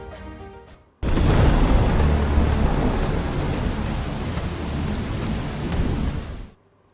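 Heavy monsoon rain pouring down in Gujarat with thunder, a sudden, loud, continuous roar of rain and deep rumbling that holds for several seconds before stopping abruptly, no voices.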